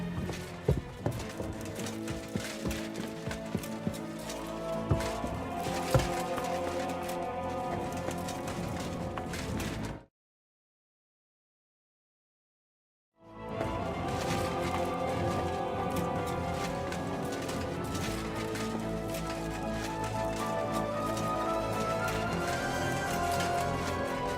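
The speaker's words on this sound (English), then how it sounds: "The horses are here." Horses arriving in a medieval setting, hooves clip-clopping steadily over a continuous musical backdrop, broken by a few seconds of complete silence midway before the hoofbeats and music resume.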